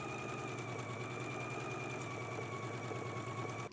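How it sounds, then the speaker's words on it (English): A sewing machine stitching a pocket seam, a steady quiet mechanical hum with rapid needle chatter running continuously, no talk. "we can go ahead and stitch at a 5/8 of an inch seam allowance"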